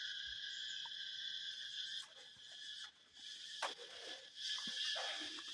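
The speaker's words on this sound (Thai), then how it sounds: "เสียงจักจั่น" Cicadas drone in a steady, shrill chorus in a cave at Vang Vieng, Laos. The sound stays loud and continuous, with a few brief knocks and scuffs over it and no voices.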